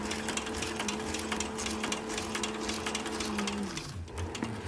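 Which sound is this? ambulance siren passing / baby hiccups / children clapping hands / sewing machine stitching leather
sewing machine stitching leather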